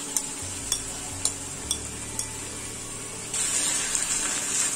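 A soybean and potato curry with browned onions and curd cooks over a medium gas flame while a spatula scrapes and taps the pan in a quick run of knocks, followed by a louder, steady sizzling hiss, with no talking.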